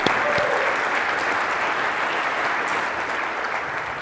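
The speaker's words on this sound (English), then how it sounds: "I want to just give you a round of applause," Audience applause at a cloud security conference talk, a dense, loud, steady clapping from a large crowd lasting throughout.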